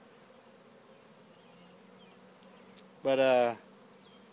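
A honeybee swarm pours out of a crowded nuc hive, a brief loud rising buzz near the end after a quiet stretch with faint background hum, and a single word spoken.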